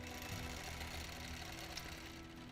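A sewing machine doing free-motion quilting, stitching in the ditch along tree-trunk seams, runs as a steady, continuous mechanical hum with a low rhythmic chatter throughout, no voices.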